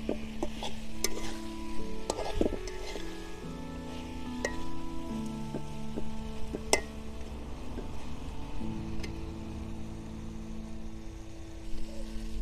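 Meat being stirred and frying in a karahi over an outdoor stove on a windy day, a steady sizzle with scraping and clinking of the spoon throughout, close by, with a faint tonal hum underneath.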